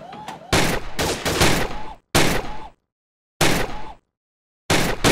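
Bursts of gunfire in the VR shooting game Gun Club VR: four loud, dense volleys of rapid shots, separated by short silent gaps, with no talking.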